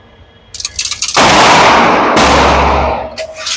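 A single loud gunshot from a Fusion Firearm XP Pro Ltd Edition pistol with PVD bronze finish, a sharp broadband blast followed by a long ringing roar that lingers for a couple of seconds, with no voices.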